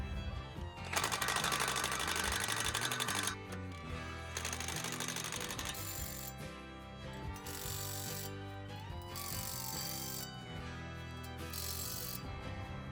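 A Milwaukee impact wrench tightens blade bolts on an ASV 135F forestry mulcher, with loud, sustained bursts of rapid hammering separated by short pauses, close up and without talk.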